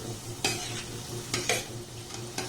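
Kalojam sweets frying in oil over a low-medium gas flame, giving a steady soft sizzle with a low hum beneath and a few brief louder bursts of bubbling, no voices.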